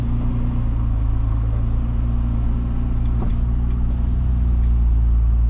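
A 2024 Ferrari 296 GTB's engine rumbles steadily from inside the cabin while driving, a constant deep drone with faint turbo whooshes and a brief click partway through, no talk.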